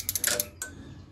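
A wrench tightening cylinder head bolts on a Deutz 8006 tractor engine gives a few close, quick creaking clicks, then one more strained creak before a quiet tail.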